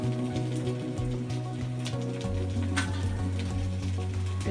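Oil sizzles on a rava dosa in a hot pan, a soft continuous crackle under a steady, humming tonal background with a few brief sharper pops.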